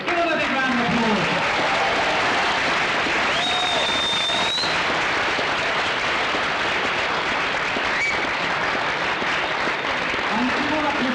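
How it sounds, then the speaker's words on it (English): Big crowd applause in an entertainment show setting, a dense continuous roar of clapping lasting over ten seconds, with some faint tonal whistles or cheers rising through the wash. "let's give them a big round of applause"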